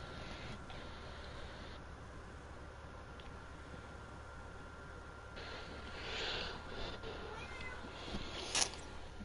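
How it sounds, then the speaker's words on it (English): A cat meows faintly a few times over a steady background hiss during a podcast, with the calls clustered near the end. "Today on the show we got Gamer Boy's cat."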